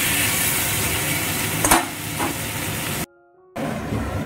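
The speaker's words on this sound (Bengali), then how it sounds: "আলুটা ভেজে নিচ্ছি।" Potato pieces fry in a pan with a steady, close crackling sizzle, a brief stirring scrape partway through, then a short silent gap before the sizzling resumes.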